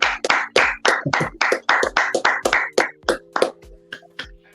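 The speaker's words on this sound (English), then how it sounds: "Can we get a soul clap in there, Trey?" A soul clap from a small group on a podcast, a dozen loud, crisp claps in a steady rhythm, slowing and thinning out at the end.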